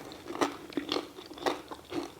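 Thick slices of cooked bacon crunch between the teeth, with four or five sharp, brittle bites and chews at an uneven pace. They are close and fairly quiet, with no talk.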